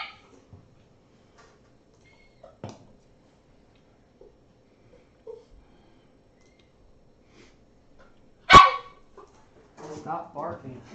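A single sharp dog bark cuts through a quiet room, with scattered faint clicks and a person talking briefly afterward.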